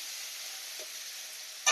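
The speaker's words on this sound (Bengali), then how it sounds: "চিংড়ি মাছগুলো দিয়ে দিলাম, হালকা করে একটু ভেজে নেব।" Prawns fry in hot oil in a kadai, giving a steady, even sizzle that holds for a moment before ending in a sudden louder burst of spattering; no one speaks.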